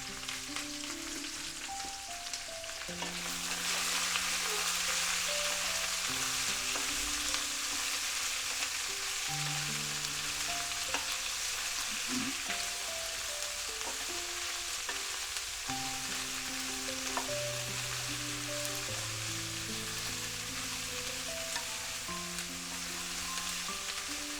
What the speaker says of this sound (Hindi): अब इसको तेज़ आंच पे प्याज को हिलाते हुए फ्राई करेंगे